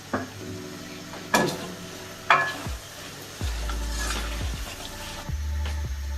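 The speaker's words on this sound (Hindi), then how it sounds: "जिंजर गार्लिक ऐड कर देंगे हम इसमें, साथ में मसाले भी ऐड कर देंगे। इसको थोड़ा सा भून लेंगे।" Ginger, garlic and spices fry in a pot for chana dal gosht, a steady sizzle broken by several sharp clanks and scrapes of a spoon stirring against the metal, heard up close.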